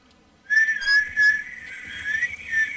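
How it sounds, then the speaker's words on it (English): A person attempts to whistle, producing a wavering, breathy tone that starts abruptly and holds unevenly for a couple of seconds, close and fairly loud. "I don't know how to whistle."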